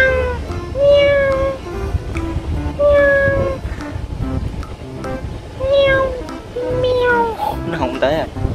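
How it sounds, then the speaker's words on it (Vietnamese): A cat meows several times outdoors in a residential area in South Korea, the cries clear and fairly close against soft background noise, without talking. "Đó có một con mèo."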